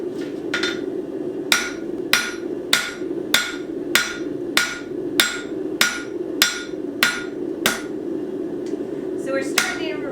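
Hammer blows on hot steel being forged into a butter knife taper, about a dozen sharp ringing strikes at a steady rhythm over a constant low roar from the forge, close and loud.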